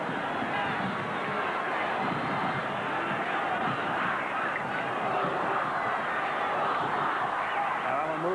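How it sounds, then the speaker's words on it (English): A large rugby league stadium crowd roars steadily for Canterbury-Bankstown against Cronulla in a 1990 match, a dense, continuous wash of cheering and shouting at even loudness throughout. "The crowd getting behind the Canterbury Bankstown side, urging them on"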